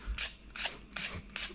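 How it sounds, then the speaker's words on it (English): A peeler scrapes down a whole potato in four quick, crisp strokes, each a bright rasping swipe with short pauses between, close and fairly quiet in a kitchen while soup is being made. "I'm going to add a potato. You don't have to peel it. I'm peeling it"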